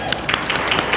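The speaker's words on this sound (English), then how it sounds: "So give yourselves a hand of applause." Clapping from an audience at a festival opening ceremony, a brief burst of overlapping claps at steady volume.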